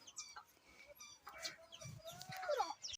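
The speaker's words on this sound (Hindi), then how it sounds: "और ये देखे बकरी का बछड़ा छोटा सा" A small young goat kid gives a few thin, wavering bleats at close range in a village yard, fairly faint amid light farmyard background sounds.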